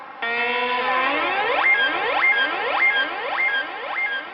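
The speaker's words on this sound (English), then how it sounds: "Really nice long echo, so that's pretty awesome." A homemade 555 timer dub siren wails in a rising tone, each sweep trailing off into a long, fading echo that repeats about every half second. The sound is loud and steady, with no voices.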